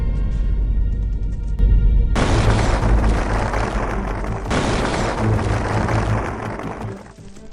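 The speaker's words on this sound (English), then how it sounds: "There was a dry explosion, and a white light flashed through the fog." A grenade blast during close combat in fog, a deep boom followed by a second burst and long rumbling decay, loud and close with no voices.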